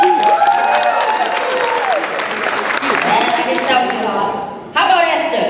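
A dinner-dance audience claps and cheers loudly, with excited crowd voices mixed into the applause. It swells and dips briefly before rising again near the end.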